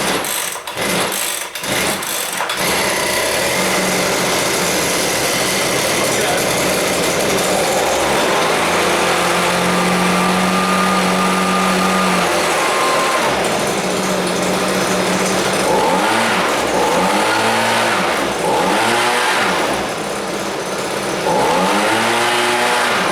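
Gas leaf vacuum and blower small engine pulled to start after choke and priming, a few rough attempts then catching and running loud and close, revving up and down repeatedly.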